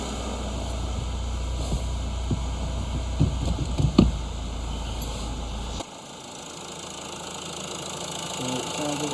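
An Opel Astra J 1.6 CDTi diesel engine, freshly fitted with a new timing chain, idling with a steady low rumble and light rhythmic clatter, close by; it cuts off partway through, leaving quiet background hum.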